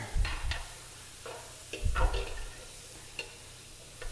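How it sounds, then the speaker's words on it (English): Spoon scraping a pan of jalapeno and spices in a few quick separate stirring strokes over a faint sizzle, close and fairly quiet. "We are also going to add a little bit of jalapeno. Okay. I'm going to stir that up a little bit."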